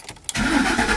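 A 2005 Ford Expedition with an exhaust leak from a holed muffler cranks briefly and fires up, settling at once into a loud, rough idle heard up close.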